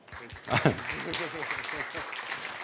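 An audience applauds at the close of an Islay whisky masterclass in Paris, a steady wash of clapping that swells early and then holds under a voice speaking over it.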